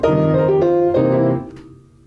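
A blues lick on piano, a short run of several struck chords and notes that rings out loud and close, then decays into silence near the end.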